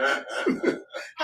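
A person imitates a deep, hacking adult cough in a quick series of rough, raspy bursts, close and fairly loud.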